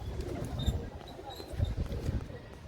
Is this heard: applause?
no